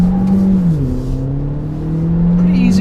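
A 2017 Kia Soul turbo accelerates hard with wheel spin, its close engine note rising, dipping and climbing again over a few seconds.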